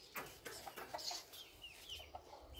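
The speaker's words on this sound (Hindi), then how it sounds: "आज तो मुर्गी को खिला दे।" Chickens clucking close by while being fed small pieces of food, a run of short irregular calls and chirps over faint background rustle, with no one talking.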